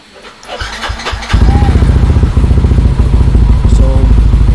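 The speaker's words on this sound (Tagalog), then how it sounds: "Try natin on ng motor." A motorcycle fitted with an aftermarket API Tech ECU cranks briefly, then starts after about a second and settles into a loud, close, steady idle with a rapid even pulse.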